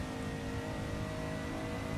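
A Toyota Supra engine in the racing game Assetto Corsa drones at a steady high pitch, a continuous moderate-level hum without breaks.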